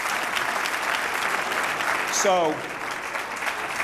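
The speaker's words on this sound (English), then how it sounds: "Yeah, you can clap." Rally crowd applause at a political campaign event for a US presidential candidate, a steady broadband clapping wash throughout, with a brief voice cutting in near the end.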